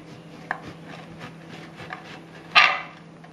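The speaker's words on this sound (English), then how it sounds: "What you need to do is just cut the crusts off the bread." A knife cuts the crusts off slices of bread on a board, giving a few soft, scattered cutting taps and one sharper, louder knock near the end in a quiet kitchen.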